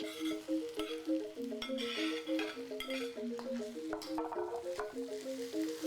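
Chilies and ginger torch fry in a pan for sambal goreng while being stirred: a steady sizzle with repeated scraping stirs and a recurring tonal ticking or beeping pattern running through, moderately quiet.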